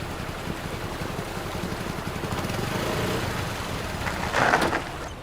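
A motorbike engine runs steadily in the foreground with a low rumbling drone, swelling slightly partway through with a brief louder burst near the end; no talking is heard.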